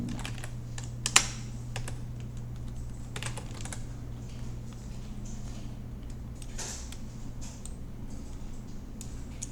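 Someone types text on a computer keyboard during a design software lesson. The clicks are quiet, scattered and irregular over a steady low hum, with one sharper tap near the start and no talking.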